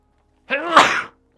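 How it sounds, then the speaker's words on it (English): A single loud, close sneeze bursts out of silence and ends abruptly. "That was quite the sneeze."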